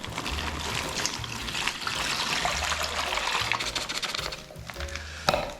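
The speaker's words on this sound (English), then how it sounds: "First of all, I'm going to pop the water in." About a litre of water pours into a plastic brine bag for a festive ham, a steady trickling gush that runs for several seconds and ends with a short splash.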